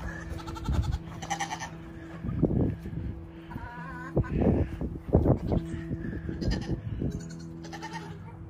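Goats bleat several times, fairly close, with quavering calls scattered among other background sounds and voices.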